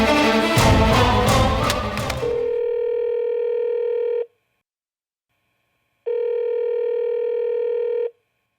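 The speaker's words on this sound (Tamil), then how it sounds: "மேடம், கொஞ்சம் பூஜாக்கு ஃபோன் போட்டு தரீங்களா?" A telephone ringback tone sounds during a call: two long, steady electronic tones about two seconds each, separated by silence, following a brief burst of other sound at the start.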